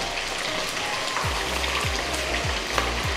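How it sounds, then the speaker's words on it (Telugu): Half a kilo of raw, unseasoned chicken fries in hot oil, giving a dense, steady sizzle and crackle up close, with rhythmic low scraping strokes from stirring. "దీంట్లో 1/2 kg చికెన్ తీసుకొని ఏమీ కలపకుండా జస్ట్ ఫ్రై చేస్తున్నాను"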